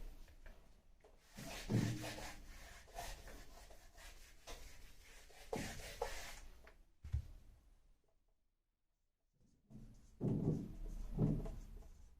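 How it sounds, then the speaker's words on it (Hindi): Hand rubbing across a tabletop, an irregular close scuffing with louder swipes, a pause of near silence, then more vigorous rubbing. "अब मैं ये रब कर रही हूँ टेबल"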